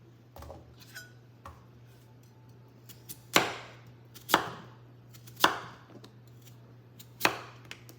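A knife chops food on a cutting board with a few sharp, close knocks spaced about a second apart, plus lighter taps and faint clinks of utensils, against a low steady hum.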